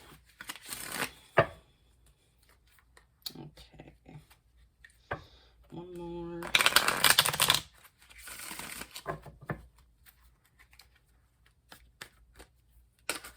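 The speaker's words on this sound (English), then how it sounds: "I always like to give them a really, really good shuffle" Tarot cards are shuffled in bursts of brisk riffling and flicking, loudest in one long shuffle midway, with a person talking briefly between them.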